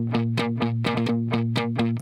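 Distorted electric guitar plays fast alternate-picked speed bursts in groups of five, a steady rhythm of quick repeated notes over a sustained low tone, loud and close, with no voices.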